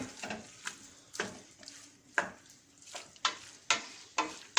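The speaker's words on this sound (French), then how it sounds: "Il faut bien mélanger pour que les épices se mélangent bien tous entre elles." A spoon stirs spices in a sizzling cooking pot for Moroccan couscous with meat and vegetables, making repeated scraping clinks against the pot at an irregular rhythm over a soft frying hiss, close by, with no talking.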